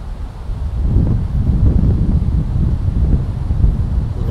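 Strong night wind buffeting an outdoor microphone, a loud low rumble that gusts and swells continuously with no voices.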